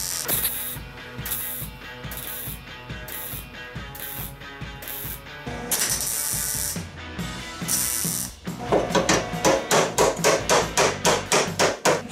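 A metal plate is hammered flush on a Kubota mower deck during repair, with bursts of loud, sharp metallic blows, some rapid runs of strikes and a final fast, evenly spaced series near the end.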